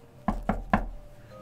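Three sharp knocks on a door, evenly spaced and close by, then quiet room tone.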